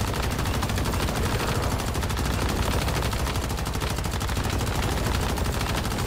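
Sustained automatic gunfire from a fast gunner build in the shooter Once Human, a dense, unbroken rattle of shots that stays loud and steady throughout, with no talk over it.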